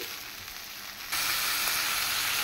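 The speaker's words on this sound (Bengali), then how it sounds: "বেশি না, হালকা একটু ভাজতেছি, যেহেতু আবার রান্না করব।" Okra lightly frying in hot oil in a home kitchen, a steady close sizzle that jumps louder about a second in and then holds evenly, with no talking.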